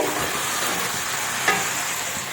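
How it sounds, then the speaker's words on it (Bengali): Tomatoes frying in a pan while being stirred, with a steady bright sizzle and hiss throughout and a single sharp scrape or clink partway through, close and fairly quiet. "বেশ অনেকটা পরিমাণই টমেটো দিলাম। এবার ভালোভাবে একটু নাড়িয়ে"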